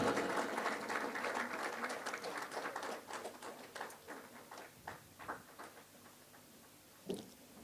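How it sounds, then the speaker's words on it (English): Audience at an International Human Rights Day award ceremony applauding, dense clapping that starts loud and thins out over several seconds, ending with a few last scattered claps. "Please give a round of applause."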